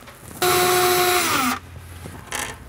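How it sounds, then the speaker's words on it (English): A power drill whirs loudly for about a second as it drills into a cabinet, its pitch dropping as it bites in, followed later by a short second burst. "from here you can drill in place"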